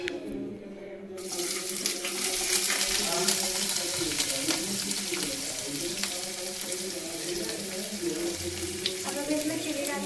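Onions hitting hot oil in a pan, a loud continuous hissing fry that starts abruptly and keeps going close by, with a brief voice in the middle.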